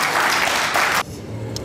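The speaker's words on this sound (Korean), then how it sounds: "여러분 박수로 맞이해주세요" Church congregation clapping to welcome a guest during an afternoon worship service, a broad wash of applause that cuts off abruptly after about a second, leaving quieter room tone.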